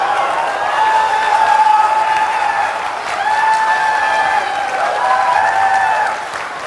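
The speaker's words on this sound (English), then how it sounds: "Just look at the crowd reaction at launch when shown a preview of a new Metroid game." A large launch-event crowd cheers and applauds a Nintendo DS Metroid game preview, with loud sustained clapping and many voices screaming together in steady, unbroken waves.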